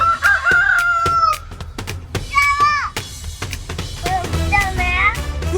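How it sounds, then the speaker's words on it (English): A rooster crows loudly and repeatedly at close range, with several drawn-out calls broken by clucking and children's voices. "Dumbass rooster, Mike."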